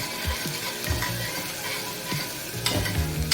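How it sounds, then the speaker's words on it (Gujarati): Cumin seeds and ginger-chilli paste frying in hot oil while being stirred, a steady close sizzle with scraping spoon strokes against the pan and a few sharper clinks. "એને સારી રીતે સાતળી લઈશું તેલમાં આપણે."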